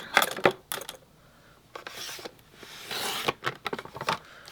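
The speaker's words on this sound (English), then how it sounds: "So I need to cut a 2 by 3 inch piece of gold shimmer." Scissors snip and rustle through a small 2 by 3 inch piece of gold shimmer craft paper, making close, quiet cuts in short bursts with brief pauses between.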